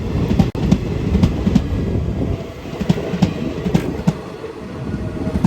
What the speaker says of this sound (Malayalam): ട്രെയിനിൻ്റെ വീൽ ഈ ഗ്യാപ്പിന് മുകളിലെത്തുമ്പോൾ ഈ ട്രെയിനിൻ്റെ ഭാരത്താൽ ഇവ തമ്മിൽ ശക്തിയമായിട്ട് അടിക്കും